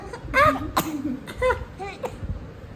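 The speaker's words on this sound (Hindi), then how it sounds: "खांसी होगी, खांसी" A few short, harsh bursts, like coughing or throat clearing, mixed with voiced sounds, close by and fairly loud.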